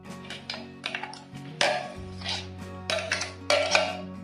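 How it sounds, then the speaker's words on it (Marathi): Close metallic clinks and scrapes as a spoon transfers crumbled leftover chapati mixed with jaggery into a metal pot, a run of light taps and rattles with brief pauses. "आता आपण हा भुगा भांड्यात काढून घेऊ।"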